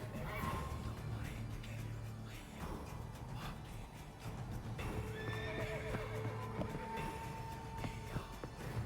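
A horse gallops in The Witcher 3, with steady clip-clop hoofbeats under game music and a whinny partway through, while a voice speaks briefly over it.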